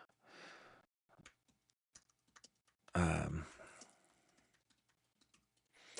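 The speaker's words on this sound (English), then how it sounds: "I have a terrible habit of looking at my fingers while I am typing" Computer keyboard typing, starting with a short run of keystrokes, then scattered clicks and a louder burst of typing midway, followed by sparse taps.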